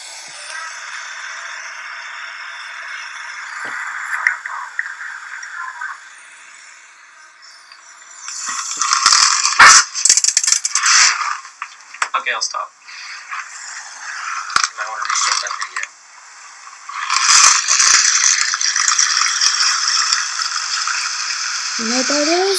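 A box of dry macaroni and cheese is shaken, giving bursts of gritty rattling that swell, pause and return in loud uneven waves over about twenty seconds, with no talk over it.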